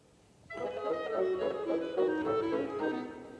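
Music from Holst's The Planets places a clarinet line in 6/8 against bassoons in 3/4, the two crossing rhythms sounding together at a steady moderate level after a short quiet opening.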